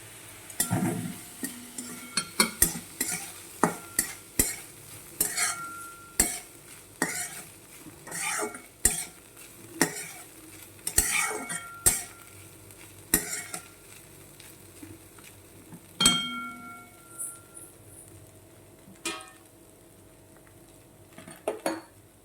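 Poha mixed with lemon juice and sugar is stirred in a pan. A spoon clanks and scrapes against the metal in an irregular run of sharp taps over a soft sizzle, and a few ringing knocks stand out near the end.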